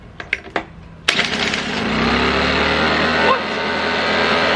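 A gas leaf blower engine starts without a pull string: a few sharp clicks, then the small two-stroke engine catches and roars into a loud, steady high-pitched drone, with a brief spoken word.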